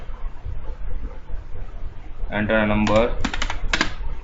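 Program code being typed on a computer keyboard: a quiet stretch, then a quick burst of close key clicks in short clusters, with faint background noise throughout.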